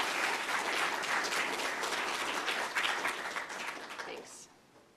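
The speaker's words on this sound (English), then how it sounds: "you're supposed to clap first" A lecture audience at a college claps after the talk, a full continuous round of applause that holds steady and then fades away near the end.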